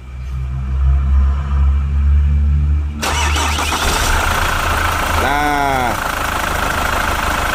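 A Chevrolet Captiva diesel with a vacuum-solenoid turbo actuator cranks and fires loudly up close, settling into a rough, steady idle, as someone speaks briefly.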